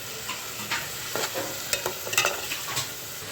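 Tomatoes sizzle in a hot pan for a fish kuzhambu while a spoon stirs them, scraping clicks and clacks popping out irregularly over a steady frying hiss, close and with no talking.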